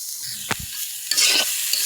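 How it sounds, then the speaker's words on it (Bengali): Leafy greens hit hot oil in a pan with a short hissing sizzle, accompanied by a couple of knocks and scrapes from stirring, close and fairly loud, with no talking. "শাকটা তেলে দিয়ে নিচ্ছি"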